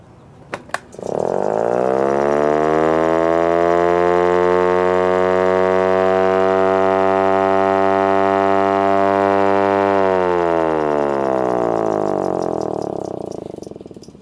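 Federal Electric Model 1 siren powered by an 18 volt Ryobi lithium-ion battery, starting after a couple of clicks, rising to a loud, steady wailing tone and then winding slowly down, heard close up with no talking.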